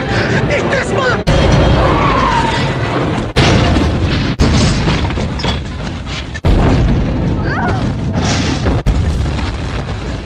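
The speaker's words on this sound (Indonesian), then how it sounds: "Setelah berhasil meledakkan rumahnya psikopat Rawa Cubluk, dia pun yakin bahwa psikopat itu sudah modar" A bazooka blast blows up a house in a film, with repeated sharp booms punctuating a continuous roar of fire and debris, loud and close throughout.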